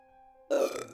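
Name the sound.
loud burp by a woman, horror story sound effect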